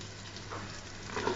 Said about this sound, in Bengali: এখন আমি সজনে ডাঁটাটা দিয়ে দিচ্ছি।